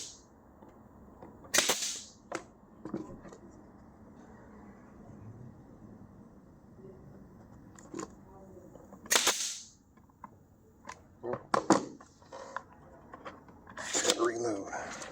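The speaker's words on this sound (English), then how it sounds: "Pressure will kick on and the gun will pop" Pneumatic nail gun firing sharp, loud pops in a woodworking shop while building bee traps, several separate bursts spaced a few seconds apart over a low background hum.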